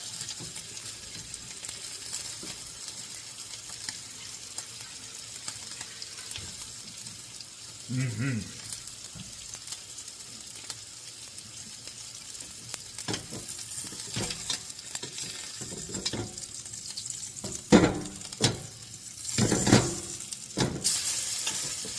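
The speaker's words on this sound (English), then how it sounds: "Oh, that is a beautiful sear on that fish." Halibut sears in a hot pan with a steady close sizzle, broken by scraping stirs and clicks of utensils, with brief talk partway through.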